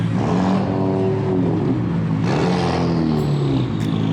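A car engine revs hard and loud at a night meet where cars may be about to race. It is a dense, continuous roar whose pitch climbs and surges partway through, with no talking.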